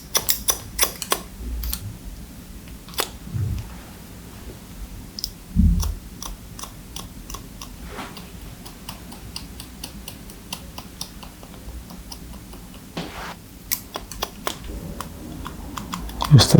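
Scissors snipping hair during a short tapered-sides haircut, with rapid crisp clicks in bursts and steady runs throughout, close and distinct, and a voice speaking at times.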